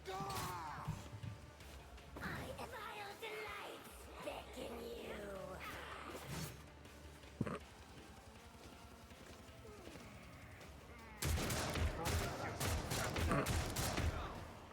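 Gunfire in Warhammer 40K: Rogue Trader arrives as a loud, rapid volley near the end, following a stretch of quieter game sounds and soft voices; a single sharp crack stands out midway.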